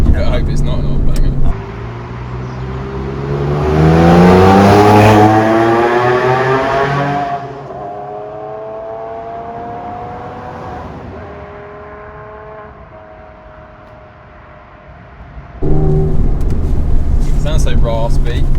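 Porsche 996 Carrera 4S flat-six revving hard inside a tunnel, a raspy rising howl that swells loudly then settles into a steady drone, with a second blip and rev near the end and people talking throughout.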